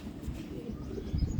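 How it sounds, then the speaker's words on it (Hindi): Soft low cooing of pigeons, a few gentle throaty calls close by, with faint background noise. "बड़े अच्छे कबूतर हैं"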